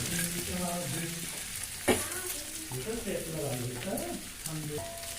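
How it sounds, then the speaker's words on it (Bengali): Arhar and mung dal are stirred in a hot pan with a steady low sizzle and an occasional scrape of the spoon, while a person talks over the cooking throughout. "এই হরলের ডালটা দিয়ে দেওয়া হলো, দিয়ে ভালো করে নেড়ে চেড়ে এবার দিয়ে দেওয়া হলো মুগ ডাল"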